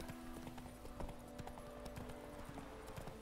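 Roach the horse gallops in The Witcher 3, hooves clip-clopping in a steady rapid rhythm, close and continuous over a constant ambient bed, with a short shout from the rider.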